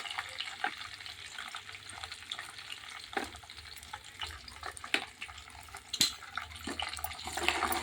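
Curry leaves and chillies crackle in hot tempering oil with cumin for an eggplant curry, a soft steady sizzle with scattered sharp pops and spatters, growing slightly louder toward the end.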